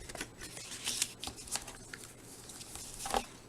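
Thin cardstock for a treat box is folded and creased by hand, giving faint, close, irregular papery rustles and soft flicks with no talking.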